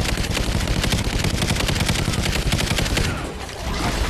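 Dense, continuous automatic gunfire from the Call of Duty Ghosts video game rattles loudly and almost without pause, briefly easing near the end.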